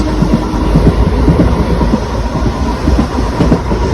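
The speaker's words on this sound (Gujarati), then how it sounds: "ફાઇનલી ભાઈ આપણે બેસી ગયા છીએ ટ્રેનની અંદર" A train rolls steadily along the rails with a loud, continuous rumble and rhythmic clickety-clack of wheels, heard from inside the carriage.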